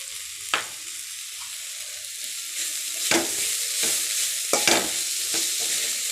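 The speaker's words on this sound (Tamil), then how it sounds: "நல்லா மிக்ஸ் பண்ணி விட்டுக்கலாம்" A spoon stirs a vegetable curry frying in a pan with ground coconut and cumin. A steady close sizzle runs under a few distinct scraping stirring strokes, with no talking.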